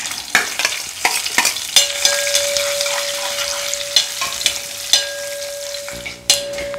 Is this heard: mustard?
yes